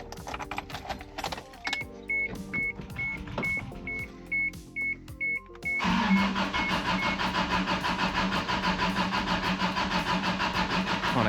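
A cheap old truck with internal engine failure cranks at length while its fuel pump is bled, giving a steady mechanical chugging under a string of repeated beeps, then a sudden, louder, continuous rumbling whir.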